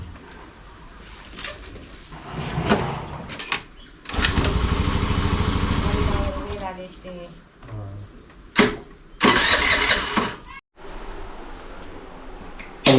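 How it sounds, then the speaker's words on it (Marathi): A motorcycle is kick-started repeatedly, with loud sputtering engine bursts that catch briefly and then die between kicks, with birds faintly in the background. "त्याला आता 25-30 किक दिल्याशिवाय ते काय गाडी चालू होत नाही"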